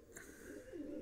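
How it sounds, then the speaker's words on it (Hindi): A soft, low pigeon coo rises and falls once, faint and close against a quiet background. "बहुत चंगी कबूतरी आ काली जिनी हरिया अखा की"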